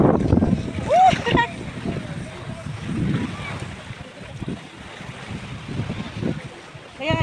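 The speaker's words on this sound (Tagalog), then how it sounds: "Lakas ng alon." Strong sea waves surge and splash at high tide, with steady wind buffeting the microphone and voices calling out over the rolling surf.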